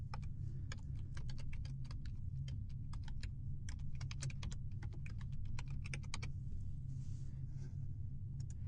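Steady computer keyboard typing, a fast run of close key clicks entering a name for a saved database view, over a constant low room hum with no talk.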